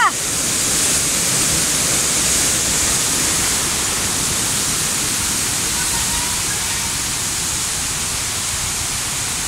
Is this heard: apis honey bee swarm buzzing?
no